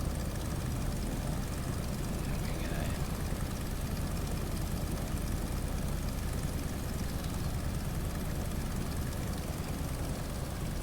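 An aircraft engine idles while parked by a control tower in Microsoft Flight Simulator 2020, producing a steady, dense low drone with a broad whooshing roar that holds constant throughout.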